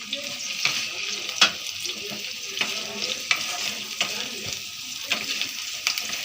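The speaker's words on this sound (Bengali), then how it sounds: "অপর দিকে ক্যাপসিকামটাও ভেজে নিচ্ছি।" Capsicum fries in a pan during a home fried-rice cooking session, a close, steady sizzle broken by bursts of spattering crackle and stirring scrapes, with no voices.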